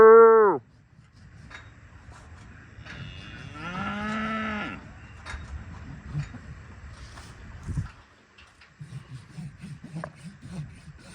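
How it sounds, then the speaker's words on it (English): Cattle moo loudly and close by at a farm on a farrier appointment day: a short bellow at the start, then a longer drawn-out moo, with scuffling and low rumbling between the calls. "Moo!"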